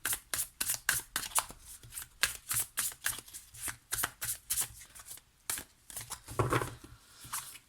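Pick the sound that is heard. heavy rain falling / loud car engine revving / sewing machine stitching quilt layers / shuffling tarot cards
shuffling tarot cards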